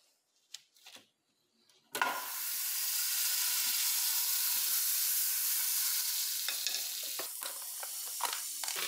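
Butter hits a hot pan for a Brazilian picadinho beef dish: after a few light knocks and clatters, a loud, steady sizzle and hiss bursts in and holds, with a few sharper pops near the end.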